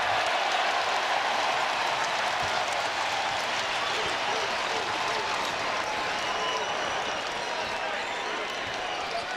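Crowd applause fills a basketball arena during a Tennessee versus Texas college game, a broad, steady wash of clapping and cheering with speech mixed in throughout.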